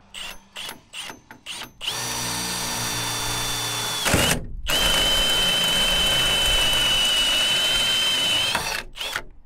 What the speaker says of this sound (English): New hole saws make quick work of it.